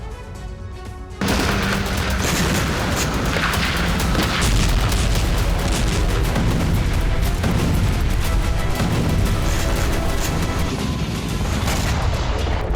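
A sudden loud explosion near advancing troops in the Kursk fighting breaks a quieter background, followed by a sustained roaring, crackling rumble that continues to the end.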